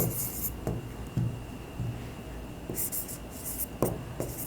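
A pen scratches across paper while someone writes out an accounting journal entry: short bursts of scratchy strokes with brief pauses between them, close and fairly quiet, with no one speaking.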